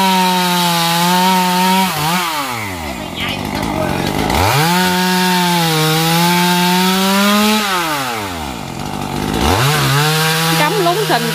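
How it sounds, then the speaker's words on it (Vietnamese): A chainsaw cuts through a yellow-flowered acacia branch in loud, close bursts, its engine pitch dropping as the blade bites into the wood and climbing again between three separate cuts. "Vậy cũng đã cưa và lôi cái nhánh."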